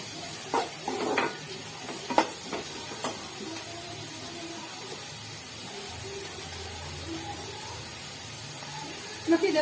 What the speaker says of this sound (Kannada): ಗೋಲ್ಡನ್ ಬ್ರೌನ್ ಆಗೋ ತನಕ ಈರುಳ್ಳಿ ಹುರ್ಕೋಬೇಕು